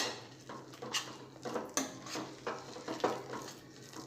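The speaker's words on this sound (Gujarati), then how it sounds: "હવે બધું મિક્સ કરી લઈશું" Besan is stirred into a grated raw potato mixture in a bowl, giving quiet, repeated scraping and clinking strokes of a spoon against the bowl at a fairly regular rhythm, close and soft.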